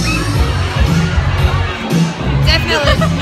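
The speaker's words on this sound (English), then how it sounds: "This is the loudest crowd of the gigs yet, personally, I think." A large concert crowd at The Hara in Glasgow roars, cheers and shouts loudly and continuously, with whoops and bursts of noise rising and falling throughout.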